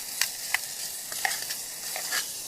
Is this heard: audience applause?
no